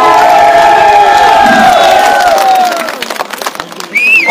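A large crowd at a BJP election rally claps and cheers loudly and continuously, a dense wash of sound that thins out toward the end before swelling again briefly.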